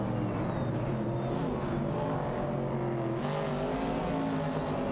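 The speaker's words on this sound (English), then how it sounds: "Amaljit is piloting a Ford Mustang Boss, while MYST149 is behind the wheel of a Ford Falcon" A Ford Mustang Boss and a Ford Falcon race in a computer-driven racing video game, their engines a steady, droning roar with layered tones and no pauses, heard alone.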